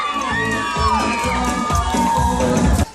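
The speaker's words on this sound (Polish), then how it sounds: "obiecaliśmy wielki aplauz na 3, 2, 1, wszyscy krzyczą, wrzeszczą." Crowd of children cheering, whooping and shouting together at a stadium during a Children's Day event, a loud sustained roar of many young voices that cuts off abruptly near the end.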